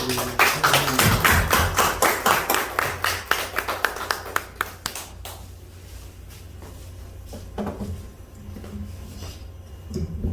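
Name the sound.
church congregation applauding a speaker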